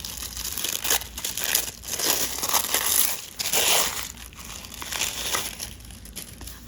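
Gold diagonal-stripe tissue paper crinkles and rustles up close as it is unwrapped by hand, a continuous series of crisp crackling crumples with no talking.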